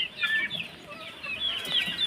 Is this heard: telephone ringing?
no